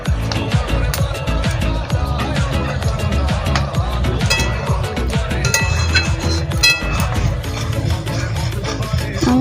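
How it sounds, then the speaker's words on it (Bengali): Bengali-style gule (chewa) fish jhal being stirred in a pan with chopped coriander: a steady, dense clatter of scraping and clinking utensil taps against the pan, continuous throughout with no speech. "মা নেড়ে মিশিয়ে নিচ্ছে।"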